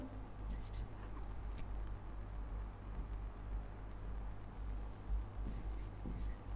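Pen or pencil scratching on paper during a maths lesson, soft continuous strokes with a few brighter scratchy bursts near the start and end, over a steady low hum and room noise.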